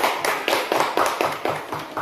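Students in a classroom clap in a quick, regular rhythm for another group, about eight crisp, close claps in a steady beat.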